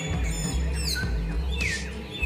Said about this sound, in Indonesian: Dalam bahasa Indonesianya, burung ini adalah burung kancilan Flores, merupakan satwa endemik yang menghuni kawasan Taman Nasional Kalimutu